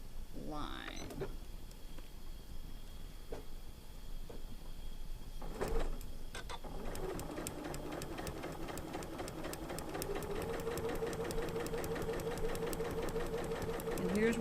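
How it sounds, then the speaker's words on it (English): A home sewing machine with a closed-toe presser foot stitches fabric along a marked line for a cactus spinning star quilt block, its rapid steady whirring building after a few soft handling clicks and continuing loud to the end. "on your sewing machine is really important because it gives you, usually has a line there right in the middle of your foot to follow."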